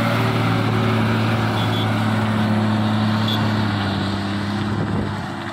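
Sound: truck driving past on a mountain ghat road

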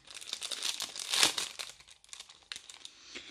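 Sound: opening a plastic bag package

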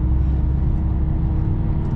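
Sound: 2010 Mercedes E-Class car driving a lap of the Nürburgring

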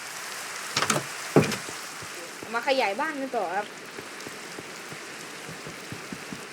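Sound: rain falling in Minecraft video game

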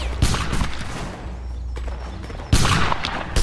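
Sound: musket volley fire in video game Napoleonic Wars

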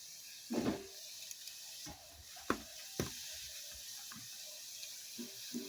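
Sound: sesame balls frying in oil

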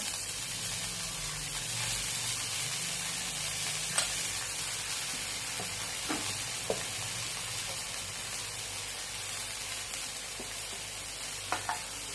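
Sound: adding coriander to a sautéed mixture in a pan

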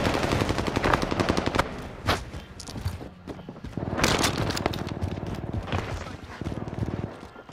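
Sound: gunfire from a video game shooter

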